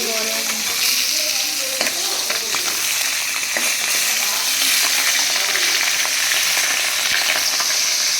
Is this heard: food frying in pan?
yes